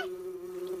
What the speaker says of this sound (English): I can't hear you over all that buzzing